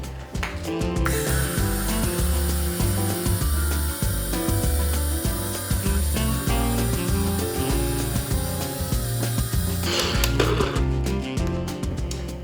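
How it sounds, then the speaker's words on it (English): A NutriBullet blender grinds oats into flour, a loud, dense whir with rattling that runs almost without a break, then stops with a brief clatter near the end. "I am using my NutriBullet to do this."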